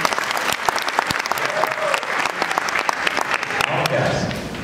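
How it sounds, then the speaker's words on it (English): An audience at a high school concert choir dessert show claps after a mention of a song, loud, dense applause from many hands with sharp individual claps and some crowd noise underneath. "Clap if you remember that song"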